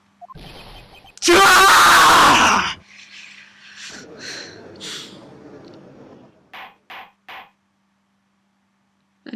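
A character screams in the Phoenix Wright: Ace Attorney courtroom video game, one loud, harsh burst lasting about a second and a half, followed by quieter game sounds and short clipped blips.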